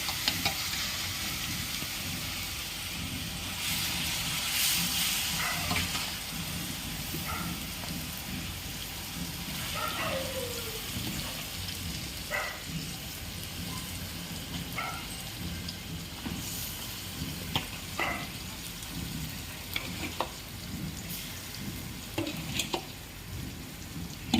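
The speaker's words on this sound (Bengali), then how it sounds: "মশলাগুলো ভাজা ভাজা হয়ে গেছে এবার দিয়ে দেবো মেখে রাখা এই তেঁতুলগুলো" Fried spices sizzling and being stirred in a pan as tamarind goes in for a sweet-sour pickle, a steady close frying hiss with intermittent scraping and stirring clicks throughout.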